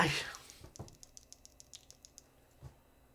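A short burst of brisk key clacks in an even rhythm, close and moderately quiet, with a couple of heavier thocks and a brief noise at the start.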